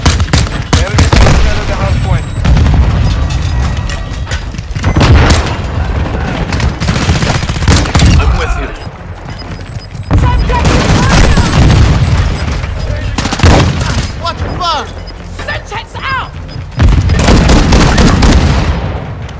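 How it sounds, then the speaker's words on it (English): Rapid shotgun blasts and gunfire crackle in Call of Duty Modern Warfare 2 on the Shipment map, loud dense bursts with booming impacts that come in waves, with people talking over them. "Looks like a rapid fire shotgun or something."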